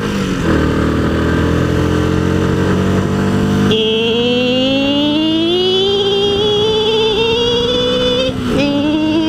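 A new motorcycle engine drones loudly up close while riding, rising steadily in pitch as the bike accelerates to overtake, with a brief shift near the end.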